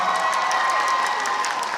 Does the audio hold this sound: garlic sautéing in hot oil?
no